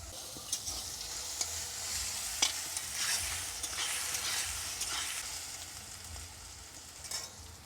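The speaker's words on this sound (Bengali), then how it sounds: "এখন আমি দিয়ে দেবো একটু রসুন রসুন থেতো করে নিয়েছি" Crushed garlic fries in a hot pan alongside red chilies, giving a steady bright sizzle with occasional stirring clicks and scrapes, close and continuous with no talk.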